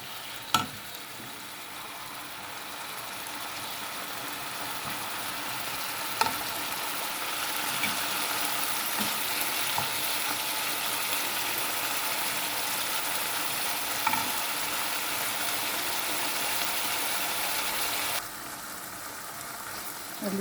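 Liver fries in a pan with garlic, pepper, cumin and salt, giving a steady close sizzle throughout with occasional soft clinks of stirring.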